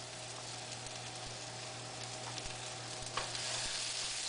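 Squash and zucchini sauté in a hot pan, giving a steady broadband sizzle with a low hum beneath and a few soft stirring knocks, one clearer scrape late on.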